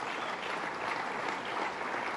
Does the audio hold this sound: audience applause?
yes